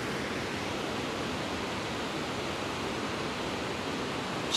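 A waterfall at the floor of Tallulah Gorge gives a steady, broad rushing roar of falling water, continuous and even with no other sounds standing out.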